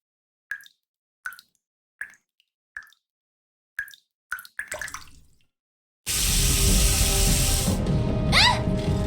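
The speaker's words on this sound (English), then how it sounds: "Water's coming from the ceiling!" Water drips from the ceiling in the Goddess of Victory: Nikke video game, landing as about seven separate plops at uneven intervals, with no talk. A loud, steady rush of flowing water then takes over, like a sudden leak pouring in.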